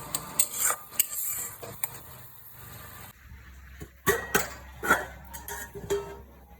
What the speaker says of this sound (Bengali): এবার এটা তেল না বেরোনো পর্যন্ত একটু ভালো করে কষিয়ে নেব।